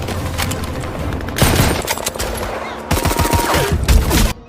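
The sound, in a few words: machine gun fire in a battle scene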